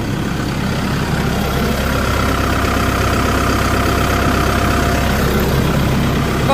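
A Dongyang S1070 tractor diesel engine runs steadily at idle, loud and close with a constant low rumble and a faint knocking texture, its steering faulty to the right, heard alone with no talk.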